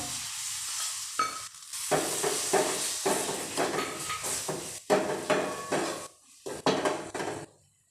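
A spoon scrapes and clanks around a pan as curry leaves are stirred into sizzling rajma masala, with bursts of stirring, hissing fry and metallic knocks separated by short pauses.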